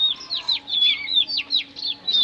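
Golden Buff chickens and their young chicks make a rapid string of high, thin peeps, repeated steadily and close by with a faint low hum underneath.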